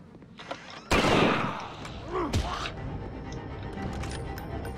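Gunfire in The Walking Dead: Survival Instinct video game, a sudden loud burst of shots followed by a second sharp crack about a second later, with game noise continuing underneath.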